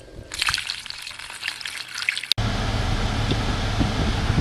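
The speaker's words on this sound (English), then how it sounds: "Now I'm going to be adding distilled water." Distilled water poured into the cooling system of a 2005 Chevrolet SSR during a coolant flush, a steady splashing trickle that abruptly shifts to a fuller, denser gushing flow.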